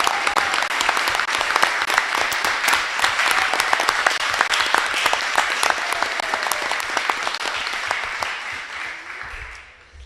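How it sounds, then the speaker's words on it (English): A board of education meeting audience claps for a teacher's tenure, a dense sustained round of applause from a crowd indoors that fades out near the end. "Please join me in a round of applause for Gina Hansett"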